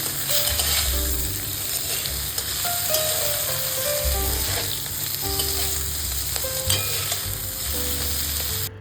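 Fish heads fry in hot oil at medium heat, a steady crackling sizzle with intermittent scraping and stirring clatter from a utensil against the pan, close and continuous with no talking.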